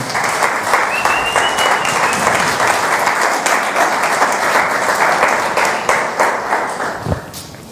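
A church congregation at a Sunday service applauds for the Lord, dense loud clapping that holds steady for several seconds before tapering off at the end.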